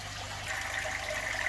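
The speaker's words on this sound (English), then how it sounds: "Now you can see all the drips that are just coming down along the wall face there." Water trickling and dripping down the wall face of a six-foot paludarium, a soft, continuous splashy wash that swells slightly partway through, heard alone and fairly quiet.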